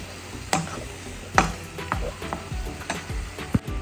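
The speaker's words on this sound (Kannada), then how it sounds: "ಎಗ್ಗನ್ನ ಆ್ಯಡ್ ಮಾಡ್ತಾ ಇದ್ದೀನಿ. ನಾನಿಲ್ಲಿ 5 ಎಗ್ಗನ್ನು ಆ್ಯಡ್ ಮಾಡ್ಕೊತಾ ಇದ್ದೀನಿ." Eggs go into a pan of sizzling garam masala fry for home-made egg rice, giving a steady frying hiss with several sharp spatula clicks and stirring scrapes.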